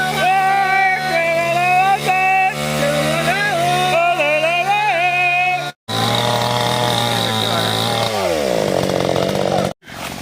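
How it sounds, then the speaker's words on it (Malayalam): A chainsaw cutting down a tree runs loud and close, its whine rising and falling as it bites into the wood. It cuts out twice briefly, then revs again and drops into a lower, labouring pitch. "അത് കട്ട് ചെയ്യാൻ പോവാണ് മെഷീൻ കട്ട് ചെയ്യാൻ പോവാണ്"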